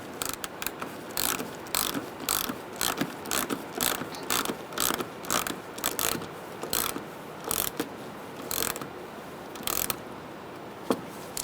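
A hand ratchet tightens a headlight mounting on a 2010-2013 Kia Soul, its pawl clicking in steady, close bursts of rapid ticks repeated stroke after stroke, with no talk.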